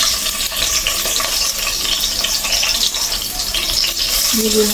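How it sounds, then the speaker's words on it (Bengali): Onions fry in hot oil alongside goat liver, giving a loud, steady sizzle with stirring scrapes throughout and a brief tonal sound near the end. "তেল দিয়ে দিলাম এবার দিয়ে দেব হচ্ছে পেঁয়াজ"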